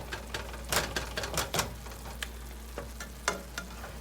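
Ground meat browning in a pan for homemade chili, a quiet sizzle with scattered sharp pops and stirring scrapes spread unevenly across the clip, no voices.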